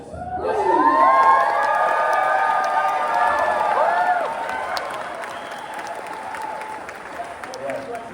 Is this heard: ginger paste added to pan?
no